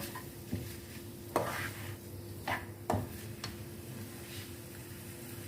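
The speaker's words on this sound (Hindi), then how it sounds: "दो मिनट्स को हम अच्छे से फ्राई कर लेंगे।" A vegetable kabab mixture fries in a pan with a steady low sizzle, punctuated by a few sharp spoon scrapes and taps against the pan as it is stirred.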